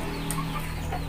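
Chicken clucking close by, a short run of soft clucks over a steady, noisy outdoor background with no talk.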